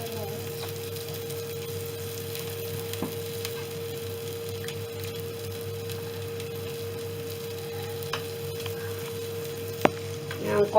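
Ghee dosa roasting on a home stovetop pan with ghee and oil poured along the edges, giving a low, steady sizzle that holds throughout, with a steady hum underneath and a few faint clicks near the end.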